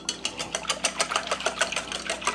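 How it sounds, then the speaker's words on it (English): Eggs, milk, cinnamon and vanilla extract are whisked in a bowl for stuffed French toast, producing a fast, even rhythm of close clicking strokes. "we whisk it all together"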